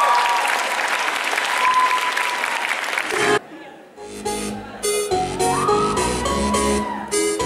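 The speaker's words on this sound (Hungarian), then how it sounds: "Nagy tapsot neki!" Audience applause at a cosplay performance competition, a loud sustained burst of clapping from a crowd that stops abruptly, followed by music starting up.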